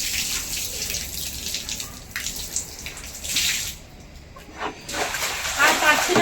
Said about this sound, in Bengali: আর পারছি না কল পাম্প করতে,